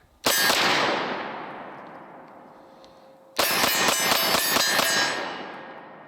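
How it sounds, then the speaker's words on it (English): ReX Zero 1S pistol fired outdoors: one loud shot with a long echoing decay, then after a pause a rapid string of about eight sharp shots in quick succession, ringing out afterward. "especially when you're double tapping with it and shooting it for a string of fire"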